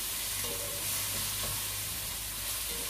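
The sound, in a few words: ground beef cooking in a pan with spaghetti ingredients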